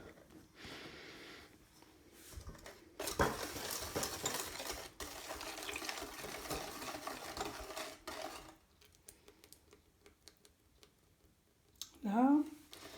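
Coconut cake batter beaten in a bowl for small coconut and jam cakes, giving soft intermittent whisking and scraping sounds at low level, with a sharper burst of mixing near the end and talk over parts of it.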